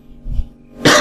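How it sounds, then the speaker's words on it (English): A smoker's cough: a low throaty rumble, then one sharp, loud cough burst close to the microphone. "Getting smoker's cough."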